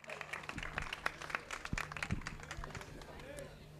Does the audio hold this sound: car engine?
no